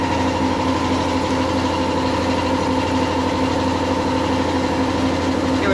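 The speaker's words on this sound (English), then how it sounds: "when we start the compressor, actually I'll start the compressor" A small budget air compressor runs loud and steady, with a constant droning motor hum and tonal whine that never changes across the whole stretch.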